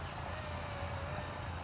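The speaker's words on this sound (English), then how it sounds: "the head speed is super low on this helicopter." A Blade Revolution 235 CP RC helicopter at low head speed gives a steady, low mechanical drone with a faint high whine that runs without change, its rotor spinning slowly nearby.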